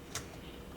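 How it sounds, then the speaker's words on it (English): A single quiet click sounds as a Jandy valve actuator cam is turned clockwise, a brief tick over faint background hiss. "you would have to turn this one in a clockwise direction, and you can hear it click"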